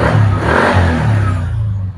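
A Suzuki Spin 125 motorcycle engine with broken ground wires sputters and revs loudly up close, its uneven, choppy note fading slightly toward the end.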